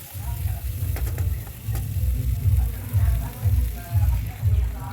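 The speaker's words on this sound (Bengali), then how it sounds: "টমেটোগুলোকে দিয়ে আবার আমি কিছুক্ষণ নেড়ে নেব।" Tomatoes with spices fry in a pan and sizzle steadily, while a spoon stirs them in rhythmic low scraping strokes about twice a second.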